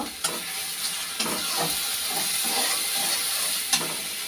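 Spices with ginger, turmeric, cumin, tomato and salt frying in a pan give off a steady, close sizzle, with occasional scraping knocks as the mixture is stirred.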